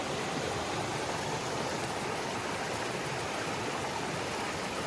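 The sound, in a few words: stream water crossing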